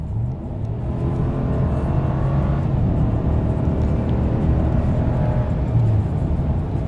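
A 2019 Dodge Ram Bighorn pickup truck engine roars steadily and close, revving and pulling hard under acceleration, with a continuous low rumble and no voices.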